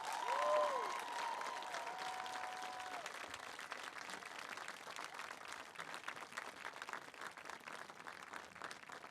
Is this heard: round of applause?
yes